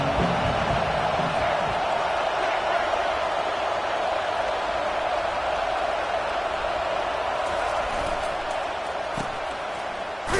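Steady roar of a packed college football stadium crowd at an Auburn game, a dense continuous wash of distant voices holding at an even level for the whole stretch, with no single voice standing out.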